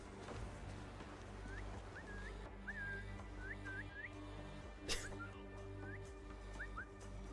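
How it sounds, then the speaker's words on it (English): Short upward whistles in Assassin's Creed Valhalla come and go in quick bursts over a steady low game ambience, with one sharp knock partway through. "All the whistling."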